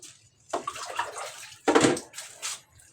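Water running and splashing in short bursts as salted dried fish (daing) is soaked and rinsed to draw out the salt, with irregular sloshing between quiet pauses.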